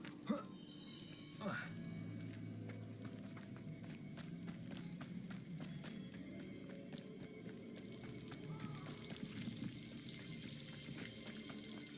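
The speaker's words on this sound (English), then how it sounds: "The waterfall." A waterfall in the Hogwarts Legacy video game gives a steady, rushing, broadband roar throughout, moderately quiet, with a faint voice now and then beneath it.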